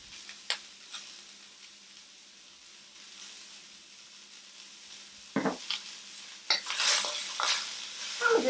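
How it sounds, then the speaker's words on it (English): Vegetables for japchae stir-fry in a pan. A soft background sizzle runs under sharp spatula clinks and scrapes against the pan, with a louder burst of stirring near the end. "we're just going to stir fry these babies up"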